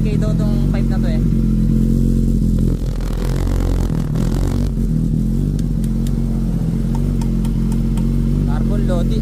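A Suzuki GSX 1000 motorcycle with an aftermarket carbon exhaust pipe runs steadily and loudly up close, a deep continuous engine drone with a brief rev change partway through and some clatter, with people talking over it.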